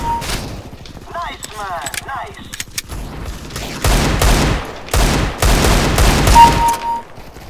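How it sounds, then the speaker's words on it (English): Rapid bursts of gunfire from a first-person shooter game with a Desert Eagle pistol, firing blindly into a corner, several loud volleys cutting in after an opening stretch of talk and game noise. "Just blindly firing into the corner there."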